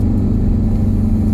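A V6 Ford Mustang fitted with Borla S-type mufflers idles with a loud, steady, deep exhaust rumble close by, with no distinct crackle pops standing out above the drone.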